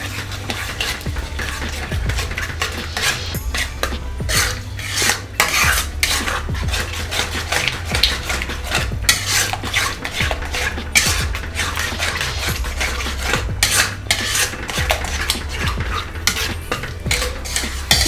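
Eggs frying in masala in a pan while a utensil stirs them, a busy run of close metallic scraping and clacking over a soft sizzle that continues for the whole stretch, with no talking.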